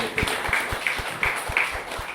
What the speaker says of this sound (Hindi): एक बार चाहता हूं उनके लिए भी जोरदार तालियां